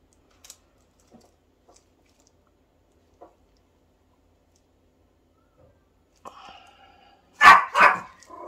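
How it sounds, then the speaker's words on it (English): A pet dog in the background gives two short, loud barks near the end, after a long quiet stretch broken only by faint clicks and taps. "Sorry if you can hear my dog in the background."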